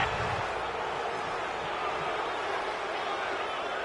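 Stadium crowd at a Jacksonville Jaguars vs New York Giants football game reacting to a roughing-the-passer penalty, a steady broad roar of many voices, distant and sustained without letup.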